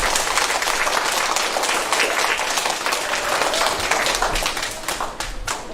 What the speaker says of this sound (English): Now you can clap for it.